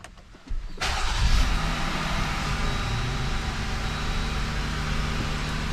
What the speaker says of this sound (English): let's fire them up and see what they sound like.